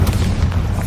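A Bombarda explosion spell in a video game: a deep, loud, rumbling boom that fills the whole moment, heavy in the low end and sustained rather than a single crack, with no talk.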